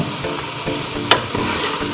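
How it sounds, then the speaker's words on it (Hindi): Mutton and cut potatoes frying together in a pot for aloo gosht, with a steady close sizzle under repeated scraping stir strokes and one sharper clack of the spoon near the middle. "अब हम साथ में जो आलू हमने काट के रखे हुए थे वो भी शामिल कर लेंगे ताकि वो भी साथ साथ भुन जाएं"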